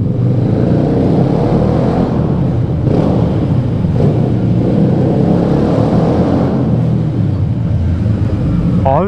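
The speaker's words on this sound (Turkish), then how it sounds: "Şu egzozdan çıkan sese baksana bak." Loud, close car exhaust rumbling and revving in a parking lot, a dense low roar that holds steady throughout with faint voices underneath.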